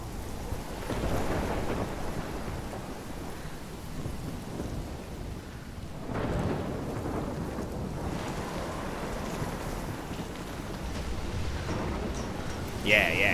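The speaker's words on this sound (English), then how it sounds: "I've never seen a storm like this in Oregon." A heavy thunderstorm with steady rain and gusting wind in the video game Life is Strange, set in Oregon: a dense continuous roar with deep thunder rumbles swelling near the start and again around the middle.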